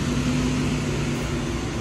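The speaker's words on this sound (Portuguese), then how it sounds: "Passou um caminhão aí, fez um barulho agora." A truck passes on a street during curbside trash picking in the United States, a steady loud broadband engine rumble that fills the whole moment.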